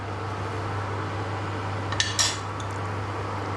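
Garlic ginger paste stirred in a cooking pot for a biryani, with a couple of brief metallic spoon clinks against the pot over a steady fan-like hum.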